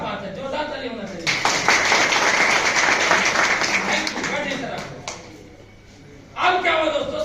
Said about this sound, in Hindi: सभी लोग की जोरदार ताली होना चाहिए